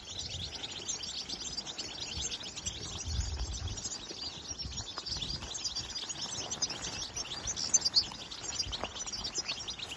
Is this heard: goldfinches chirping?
yes